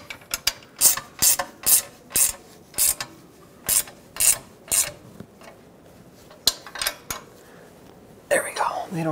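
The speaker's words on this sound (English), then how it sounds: "Now just tighten up these mounting bolts." A hand ratchet clicks in quick, evenly spaced bursts while tightening the mounting bolts of a rear catalytic converter on a Dodge Grand Caravan, close and crisp, pausing briefly before a final rustle of movement.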